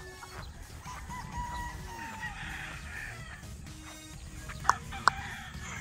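A straight-comb Paul Spark Gray gamefowl rooster crowing on a game farm, a drawn-out crow at moderate distance among clucks and other birds, with two brief sharp knocks near the end.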